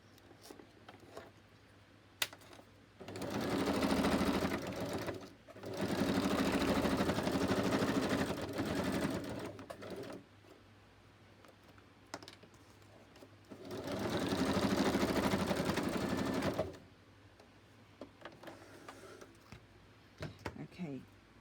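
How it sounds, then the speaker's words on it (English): A sewing machine stitching a double-sided fabric pocket runs in three loud buzzing bursts of a few seconds each, separated by quieter pauses filled with handling clicks and rustles. "Let me just stitch it and then I'll tell you what I thought."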